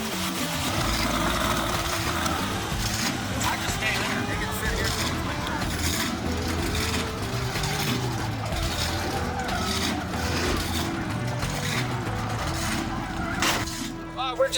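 A burnout car's engine idles steadily at a drag event near the staging lanes, a low continuous rumble with clanks and mechanical rattles around it, while people talk over it.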